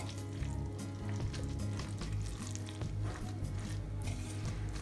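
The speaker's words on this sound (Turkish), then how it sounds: "Hepsini birlikte karıştıracağız şimdi. Unumuzu karıştıralım." Flour being stirred into a pot of Turkish yogurt soup with garlic and mint, a steady soft scraping and sizzling texture with low rumbling underneath, continuous and close with no talk.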